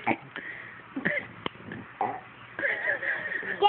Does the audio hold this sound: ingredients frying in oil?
no